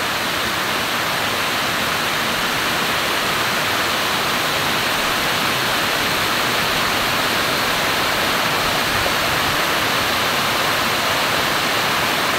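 Panas Falls in Davao del Norte roars with a strong current swollen by rain. The rushing water is a steady, dense, even wash that runs unbroken throughout, with no voices.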